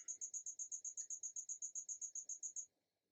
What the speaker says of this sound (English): I'm sorry if you can hear that cricket in the background.